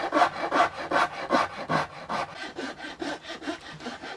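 A Shinto rasp shapes the wood of an electric guitar body of alder with mahogany beneath, making about ten rhythmic scraping strokes close up, evenly spaced, then softer and quicker toward the end.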